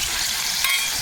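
Mutton and jackfruit frying in hot oil, a steady close hiss and crackle of sizzling throughout with no talk.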